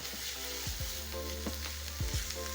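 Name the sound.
garlic sizzling with softening onions in a pan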